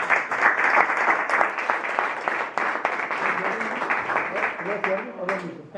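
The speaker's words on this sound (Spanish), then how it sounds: "un aplauso para él" A crowd applauds in homage to Nelson Mandela at an outdoor political rally, a sustained wash of clapping that continues steadily before fading as a voice begins.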